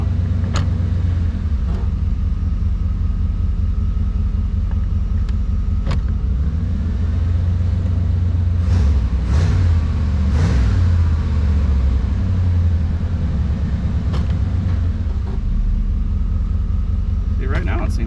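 A 1992 Chevy C1500 Fleetside pickup's engine idles loud and close with a low, uneven rumble that stumbles a little, dips, then settles back, while someone talks over it.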